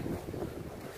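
Wind buffets an open fishing boat at sea, a steady low rushing roar mixed with water and hull noise, fairly loud and close with no talking.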